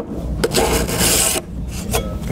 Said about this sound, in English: I'm going to start by filing that off just with my file here and get rid of it